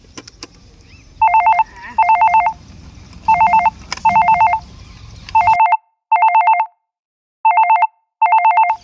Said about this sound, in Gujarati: એ સાહેબ આ ફોન આવ્યો કોકનો ઉપાડજો